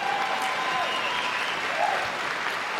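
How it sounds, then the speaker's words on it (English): Crowd at a Dan Hardy vs Pat Healy fight event applauds both fighters, a steady wash of clapping and cheering from a large arena, moderately distant, with a faint whistle-like tone and some voices underneath. "Nice round of applause for both fighters,"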